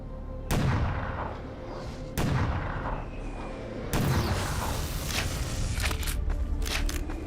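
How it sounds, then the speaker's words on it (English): Rapid weapon fire from a minigun launching homing missiles in the sci-fi shooter E.Y.E. Divine Cybermancy, with three heavy booming onsets followed by continuous loud rumbling and crackling blasts. "It has a minigun of missiles."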